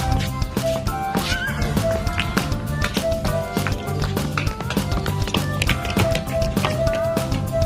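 A horse at a farm neighs amid a busy, continuous mix of tapping, hoof-like knocks and tonal background sound.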